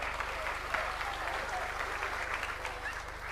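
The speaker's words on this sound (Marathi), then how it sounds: "जोरदार टाळी वाजवा." A large crowd claps loudly and continuously at a political rally in Maharashtra as MP Amol Kolhe is introduced, dense applause with a steady low hum underneath and faint voices mixed in.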